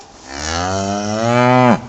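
A cow gives a single loud, close moo, a rich drawn-out bellow lasting over a second that ends with a downward fall in pitch.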